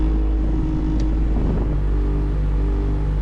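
A noisy air-conditioning blower motor in a 1988-1991 Honda CRX Si gives off a loud, constant low drone with a steady whining hum, plus a brief rattle partway through.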